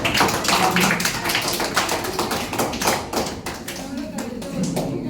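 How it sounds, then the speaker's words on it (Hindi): Students applauding in a Class 10 classroom after a chemistry exam result is read out, a dense run of close, sharp hand claps that keeps going steadily and is mixed with a teacher's talk. "इसके लिए भी ताली आप लोग।"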